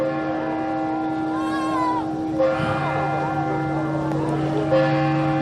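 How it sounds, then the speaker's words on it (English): Church bells ring the hour at seven o'clock, a steady sustained toll with a constant hum beneath it and no voices. "And the bells are sounding 7 o'clock."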